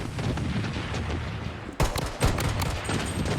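M1887 shotgun fire in the video game BloodStrike: a dense stretch of game gunfire, then two sharp, loud blasts at separate moments that stand out above the ongoing background shooting.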